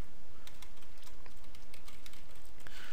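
Someone types a message on a computer keyboard: a steady run of light, close key clicks with irregular spacing, and no talking.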